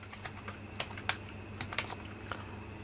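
Fingers tap out numbers on a computer keyboard during spreadsheet entry, a quiet, irregular series of close clicks over a low steady hum, with no talking.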